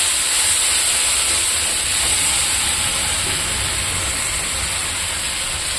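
Ground spice paste frying in a pan for a cauliflower and paneer dish, making a loud, continuous hissing sizzle that stays steady and close for the whole stretch, with no voices.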